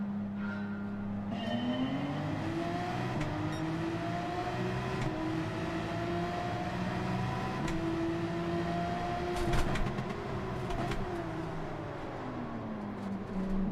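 A field of Porsche race cars in Gran Turismo 7 pushes through a daily online race, with engines droning continuously and sliding up and down in pitch as the cars accelerate, shift and lift.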